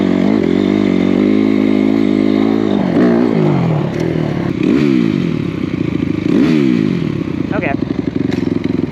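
A Stark Varg electric dirt bike with a sticking throttle, its motor whine swooping up and down in pitch under rough clattering and scraping from the ride, loud and close throughout.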